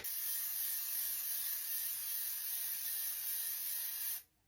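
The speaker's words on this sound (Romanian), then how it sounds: "Folosim și spray-ul de fixare, finally." A makeup setting spray mists out in one long, steady hiss of about four seconds, close and fairly loud, then cuts off abruptly with no talking.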